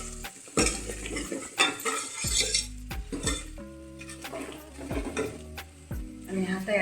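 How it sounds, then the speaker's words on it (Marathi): Chili powder and turmeric fry in hot oil with browned onion for a mutton curry, a spoon scraping and clinking against the pan in repeated strokes close by, with a soft sizzle underneath. "चटणी तेलामध्ये भाजून घ्यायची"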